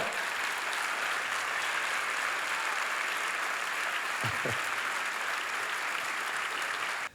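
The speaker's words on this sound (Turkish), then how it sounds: "kocaman alkışlar" A dense crowd claps steadily at the opening of the 41st Istanbul Film Festival, the even applause filling the whole stretch without any voices above it.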